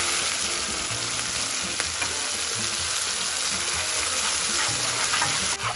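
Steaks fried in a pan with beer poured in, giving a loud, dense, continuous sizzle with faint stirring scrapes underneath and no talking.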